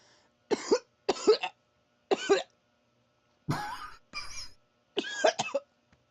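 A person coughs after a bong hit, with a series of harsh, close coughs in short bursts, three sharp ones followed by rougher, raspier coughs and throat clearing, separated by brief silences.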